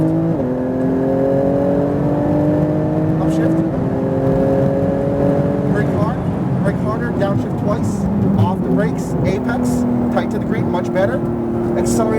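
A Porsche GT2 RS engine accelerates hard on a race track, loud and close, its rising tone climbing through gears with brief drops at each upshift, steady and continuous throughout.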